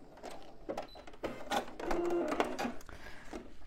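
A sewing machine stitches a short backtack to finish topstitching on a bag, short whirring bursts close by that start and stop.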